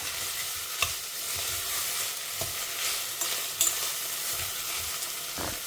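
Cinnamon, cloves and cardamom fry in a pot while making one-pot biryani, making a low, continuous sizzle with occasional stirring clicks and scrapes, close and unaccompanied by talk.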